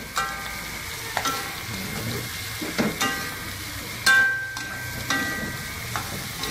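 Squid stir-fried with petai in a pan, with a continuous sizzle and repeated scraping clatters of the spatula stirring at irregular intervals, close and moderately loud.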